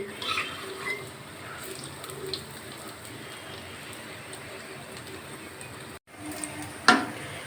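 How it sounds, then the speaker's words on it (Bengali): Palm fritters (taler bora) sizzling as they fry in hot oil, a steady crackling patter throughout with a brief break and a short loud clatter near the end. "এই যে তালের বড়া এই যে এরকম করে ভেজে নিয়েছি"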